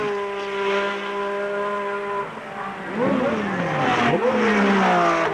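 The 500-horsepower Renault V6 Turbo race car, number 2, at the 1978 24 Hours of Le Mans holds a loud, steady engine drone, then revs up and down in rising and falling sweeps.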